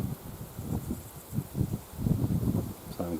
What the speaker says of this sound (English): the wind's making a mess of my voice